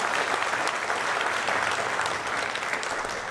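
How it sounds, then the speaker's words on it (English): Dense, steady applause from an audience at a high school athletics hall of fame induction ceremony, a loud continuous wash of clapping throughout. "a round of applause for them real briefly"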